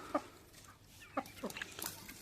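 Short clucks from a few chickens, soft and somewhat distant, heard as separate brief calls with quiet gaps between them against low background noise.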